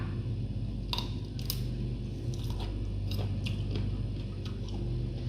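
Close crunchy bites into a raw cactus leaf, followed by moist chewing that repeats several times in an uneven rhythm, with no talking over it.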